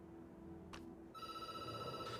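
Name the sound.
telephone ringing in the video game Night Call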